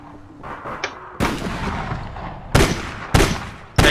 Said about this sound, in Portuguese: Granada, granada, granada!